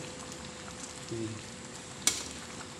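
Sweetened jackfruit simmering in coconut milk is stirred in a pot, a soft bubbling sizzle with a brief scrape of the spoon, then a sharp clink against the pot near the end, close and fairly quiet.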